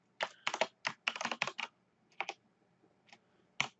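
Quick, close keystrokes on a computer keyboard, tapping in irregular clusters with brief pauses between, fairly quiet and clear with no talk over them.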